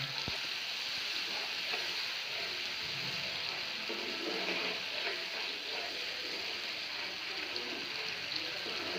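A little water goes into spices frying in a pan for coral fish, leaving a steady, moderately loud hiss and bubbling sizzle that runs evenly throughout without speech.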